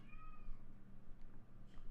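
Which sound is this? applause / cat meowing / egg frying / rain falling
cat meowing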